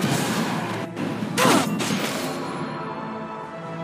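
Rifle shots from Caitlyn's headshot in the Wild Rift mobile battle game, a few sharp loud cracks in a short burst around the middle, over busy game sounds.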